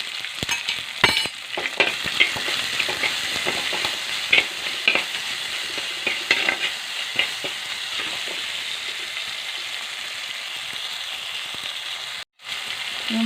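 Aval upma of flattened rice fries and is stirred in a pan. A steady close sizzle runs under repeated scraping stirs that thin out later, with one brief break near the end.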